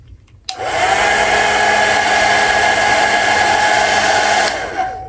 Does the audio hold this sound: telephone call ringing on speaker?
no